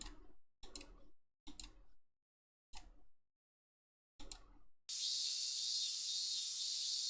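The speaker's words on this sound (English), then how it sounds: "Burning sunlight and the sound of cicadas." A handful of short, separate clicks come first, then a shrill, constant drone of cicadas sets in, a summer scene from the visual novel Narcissu Side 2nd that fills the background loudly to the end.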